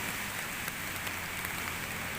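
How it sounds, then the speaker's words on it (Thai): Heavy rain pours steadily on a rural farm plot during a flood threat, a dense continuous hiss with scattered nearby drops and no voices. "ฝนตกบ่ขันเม็ดเลย"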